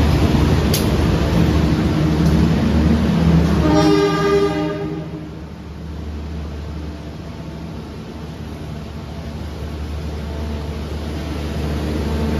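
A loud passenger train, the Pandalungan, rumbles close by and sounds its horn in a sustained blast, then the roar fades into a quieter, distant drone.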